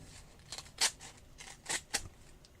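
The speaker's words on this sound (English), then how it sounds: "And then I want to snip the side" Scissors snip along the side of a paper notebook in a craft setting: a few sharp, close cutting clicks spaced irregularly, with no voice over them.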